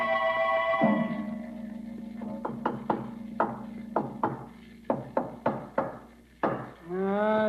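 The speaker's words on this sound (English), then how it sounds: "Yes, Riley, every spot we've tapped seems to be solid stone or concrete." Radio drama effect of tapping on solid stone crypt walls: a series of sharp, dry knocks in an irregular rhythm, close and distinct, with brief voices at the start and end.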